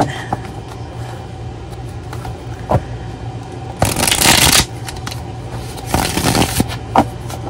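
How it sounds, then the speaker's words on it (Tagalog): Playing cards being shuffled by hand in two brisk riffling bursts, close and fairly loud, over a low steady background hum with occasional small handling clicks. "Balasahin natin."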